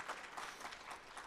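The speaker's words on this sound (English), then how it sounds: "I'd actually love to give a round of applause to Scott Heister." Applause at an educator-of-the-year banquet, honoring a colleague; a faint, brief burst of many hands clapping, somewhat distant in a large room.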